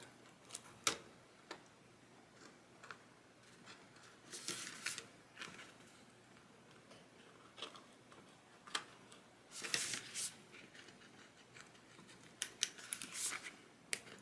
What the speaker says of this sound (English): I'm cutting out the whole circle.